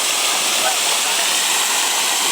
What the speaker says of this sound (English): the water is shooting, it's going up